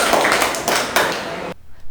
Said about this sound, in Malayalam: ഒരു നല്ല കൈയടി കൊടുത്തേ കൽഹാര.